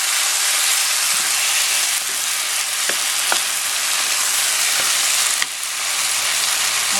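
Pork and chicken frying in a pan: a loud, steady sizzle with a dense hiss that runs throughout, broken only by a few faint clicks.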